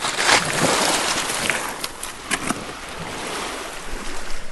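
Water sloshing and splashing around the legs while wading along the rocky Lake Superior shoreline, with soft wind and lapping waves behind; steady and close, with a few sharper splashes, no talking.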